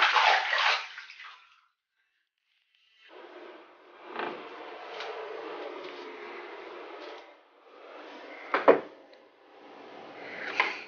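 A baby splashing water in a bathtub, soft intermittent sloshes and splashes in a quiet indoor room, with a gap of near silence and a sharper splash toward the end.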